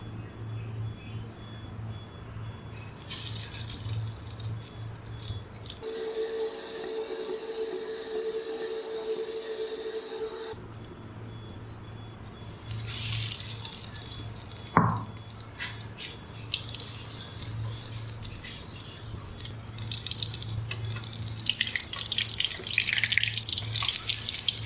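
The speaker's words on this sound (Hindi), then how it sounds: "अब मैं इनको फ्राई करती हूँ" Shami kebabs dipped in beaten egg sizzling and frying in hot oil, a steady hissing crackle that rises and falls, with a louder, brighter burst midway, close and continuous.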